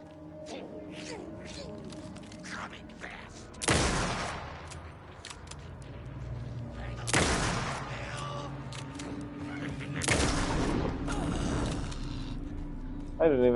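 Rifle shots in the video game Alan Wake 2: three loud, sharp cracks spaced a few seconds apart, each with a ringing tail, over low game ambience and faint clicks.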